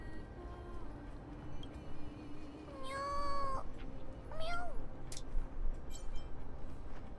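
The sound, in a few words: cat meowing from Flame Reaver in Honkai Star Rail video game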